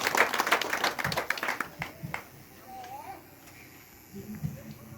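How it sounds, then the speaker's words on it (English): A church congregation claps for Jesus at a testimony service, a burst of dense, fairly loud applause that thins out after a couple of seconds, with a voice talking over it and faint sounds continuing afterward. "Let us clap hand for Jesus."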